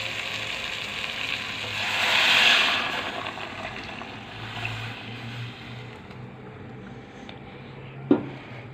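Chicken sizzles and fries in a pan with a steady crackling hiss that swells briefly and then settles, and a single metallic clank sounds near the end.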